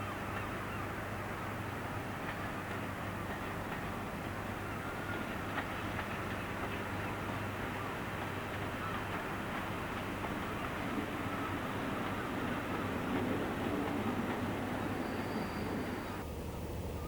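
A sleeper train of coaches hauled by a Class 47 diesel locomotive rumbles past in a dense, steady roar at a moderate distance, then cuts off sharply near the end.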